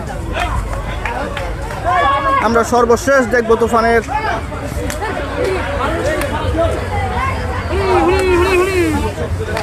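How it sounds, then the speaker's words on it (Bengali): A crowd gathered around Tufan, a black bull at the Gabtoli cattle market, with steady close babble and shouting and someone talking loudly over the noise. "মানুষ ভিড় করে ফেলছে তুফান দেখতে"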